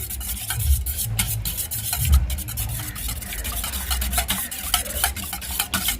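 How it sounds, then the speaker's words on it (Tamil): Eggs being beaten in a bowl for Jaffna-style vatalappam, a continuous quick whisking and scraping rhythm with small clicks, close and fairly loud, no voices. "முட்டையை நீங்கள் அடிக்க போறீங்க"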